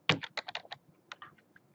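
A name being typed on a computer keyboard: a quick burst of close key clicks that slows to a few lighter, scattered taps, with no voices.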